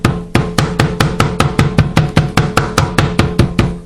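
Fresh-cut garden rosemary sprig being bruised with the back of a knife on a board, a steady series of about fifteen sharp, evenly spaced taps, close and loud, with no talking.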